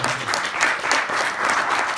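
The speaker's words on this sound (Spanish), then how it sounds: "Démosle un fuerte aplauso al Señor." A church congregation claps for the Lord, dense sustained applause filling the room at close range, steady and loud throughout.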